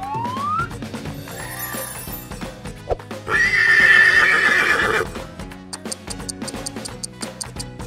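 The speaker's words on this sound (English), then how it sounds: "Horse." A horse lets out one loud, shaky neigh lasting about two seconds in the middle, surrounded by bouncy background music with percussive hits before and after.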